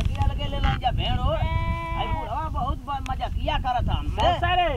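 Sheep bleat repeatedly, several wavering calls overlapping one another close by, loud over a steady rumble of wind or background noise.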